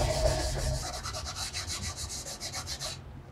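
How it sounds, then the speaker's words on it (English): Cloth buffs a finish off a walnut wood inlay with a fast, regular back-and-forth rubbing, close and continuous, ending abruptly after a few seconds. "wipe all the extra off, and then I'll make sure that I buff it"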